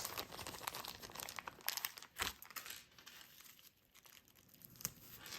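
Paper wrapping being folded up around a small jewelry order, with close crinkling and crumpling rustles in uneven bursts and one sharper crackle partway through, no talking.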